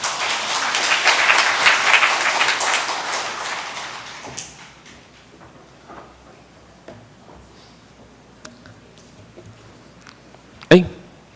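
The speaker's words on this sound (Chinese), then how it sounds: "我们再次来掌声来欢迎" A church congregation applauding to welcome a couple, with steady clapping for about four seconds that then fades into scattered taps and room noise.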